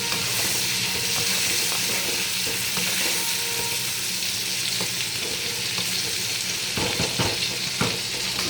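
Eggplant pieces dusted with turmeric sauté in hot oil in a pan, giving a steady, close sizzle and frying hiss with scattered clicks of stirring throughout.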